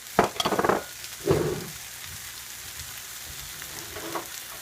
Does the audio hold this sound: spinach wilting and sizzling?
yes